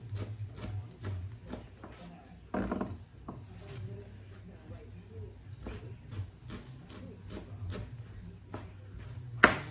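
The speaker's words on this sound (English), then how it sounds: "we're gonna do about a tablespoon of fresh parsley. Mince that up nice." A knife mincing fresh parsley on a cutting board, with quiet, irregular chopping taps and scraping rubs spread across the stretch, fairly close but soft.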